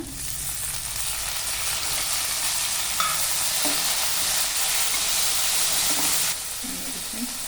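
Chopped tomatoes go into a hot, reddened tempering of curry leaves and garlic in a pan for bottle gourd gojju, giving a loud, steady close-up sizzle that hisses on and drops slightly near the end.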